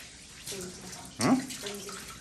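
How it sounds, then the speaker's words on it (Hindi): Water poured from a vessel during wudu ablution in a Pakistani village home, a soft splashing trickle with a brief louder burst near the middle, while people talk nearby. "हमजा वज़ू कर रहा है कुरान पाक पढ़ने के लिए"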